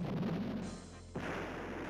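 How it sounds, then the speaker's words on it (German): Unit opening fire in the turn-based strategy game Battle Isle 2, a short booming shot with a low rumbling tail, a brief dip, then a second burst of noisy blast texture. "Und dann werden wir ja mit dem natürlich auf den schießen."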